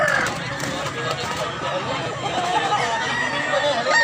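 Chickens cluck and squawk in a busy, continuous chorus close by, with people talking underneath throughout.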